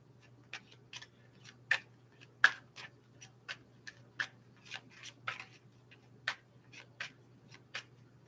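Soft, irregular taps and flicks of tarot cards being shuffled by hand, close and quiet, spaced out in a loose rhythm.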